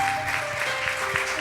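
Continuous clapping rises from a church congregation, even and fairly loud, over a low held tone that could be an organ or keyboard.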